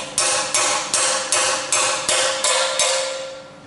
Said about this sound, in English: you can just tap this in with a hammer carefully